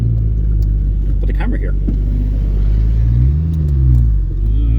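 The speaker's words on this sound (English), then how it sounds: "So yeah, here's the car. Car drives great" A 1972 Triumph TR6 with a freshly rebuilt engine rumbles steadily on a road test, a loud low in-cabin drone with a brief rise in revs, while a person talks over it.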